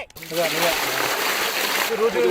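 Raw water poured into a cooking pot during an outdoor village cooking session for mutton bone marrow pepper fry: a continuous splashing gush lasting about two seconds, close and loud, with people talking over it.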